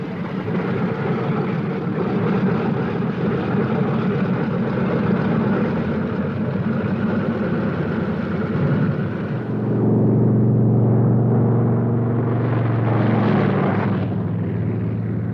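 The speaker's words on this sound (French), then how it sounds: "Des B-17 transformés en drones, profondément modifiés et télécommandés à partir du sol décollent." Heavy propeller engines of B-17 bombers, modified as remote-controlled drones, drone loudly and steadily, swelling into a deeper, louder roar toward the end as the planes power up for takeoff.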